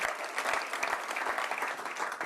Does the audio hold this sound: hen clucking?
no